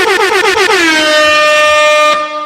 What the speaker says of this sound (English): Y'all about to get some air horns